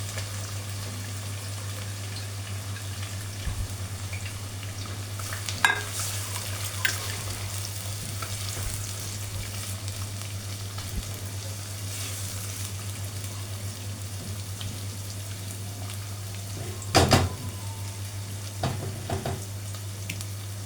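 Chopped onions hitting hot oil in a pot while preparing Egyptian koshari, giving a steady, close sizzle throughout with a few sharper bursts of stirring and clatter, and no talking.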